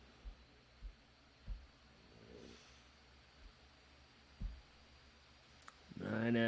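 Faint computer mouse clicks, several soft, sparse taps spaced a second or so apart against quiet room hiss, ending in a brief louder rustle.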